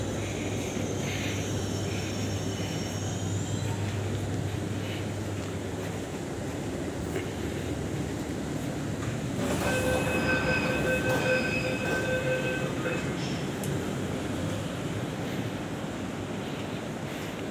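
Steady rumble of an empty metro train rolling along rails between Anand Vihar and Jafrabad, with a high metallic wheel squeal rising midway before settling back to the drone.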